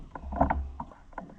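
Steering wheel of an Oliver 1250-A tractor being turned, producing a few short creaks and clunks of the steering mechanism, close and fairly quiet, with no talking.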